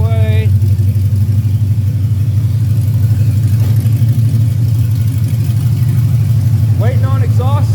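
A repaired Buick or Cadillac car engine running steadily, a loud continuous low rumble throughout with brief voices at the start and near the end.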